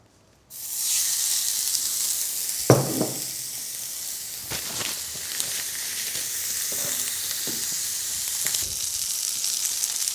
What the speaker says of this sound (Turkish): Dökme demir tavamı önceden iyice ısıttım. Şu anda çok sıcak. Doğrudan üzerine koyuyorum